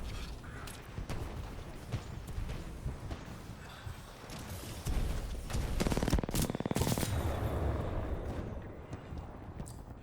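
Rapid bursts of R-97 submachine gun fire in Titanfall 2, loud and close, with dense chattering volleys that build in intensity toward the end amid other battle noise.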